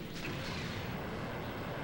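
Machine gun fire from the PlayStation combat racing game Red Asphalt: a dense, steady rattle of rapid shots that runs without a break for about two seconds, loud and close, with no talking over it.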